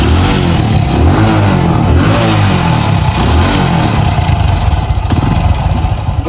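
A motorcycle engine runs loud and close with a continuous roar and wavering pitch as it revs, with no voices.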